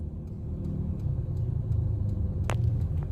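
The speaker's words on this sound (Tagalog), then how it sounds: "Eto, nasa kotse pa kami at napaka-traffic." Car stuck in heavy Manila traffic, with a steady low engine rumble and road noise from inside the vehicle and a brief higher passing sound near the end.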